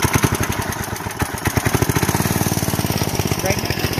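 A go-kart's small engine pull-started and running after being choked for flooding, a loud, close, rapid sputtering putter that evens out into a steady fast chug.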